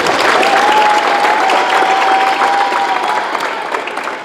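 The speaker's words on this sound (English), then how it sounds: "So go ahead and give them a round of applause." An audience at an awards banquet applauds loudly and steadily, sustained clapping that tapers off slightly toward the end.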